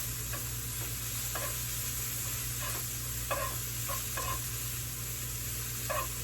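Vegetables sauté in about two tablespoons of grapeseed oil, giving a steady close sizzle with occasional light stirring clicks and scrapes scattered through.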